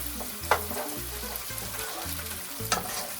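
Onions and peas cooking in a pan for pasta e piselli, a steady low sizzle with repeated stirring scrapes at a regular rhythm and two sharper clatters, close and moderately loud with no talk.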